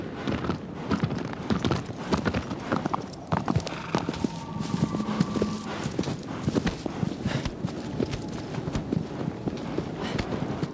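A horse in the game Shadow of the Colossus trots with a steady, close clip-clop of hooves over wind-like ambient noise, continuing without pause.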